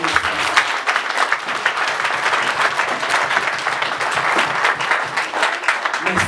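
A church congregation at an anniversary celebration in Rancagua, Chile, claps and applauds continuously, a dense, lively wash of hands that stays steady throughout.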